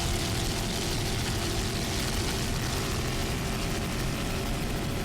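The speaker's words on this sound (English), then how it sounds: "Typhoon running very, very well here in this Buffalo Offshore Grand Prix." Typhoon offshore racing powerboat at the Buffalo Offshore Grand Prix, its engines giving a loud, steady, broadband roar throughout with no talking over it.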